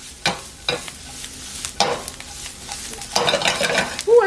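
Garlic and eggplant are tossed around in a hot frying pan, with a soft sizzle under several sharp scraping and stirring strokes close by, no talking.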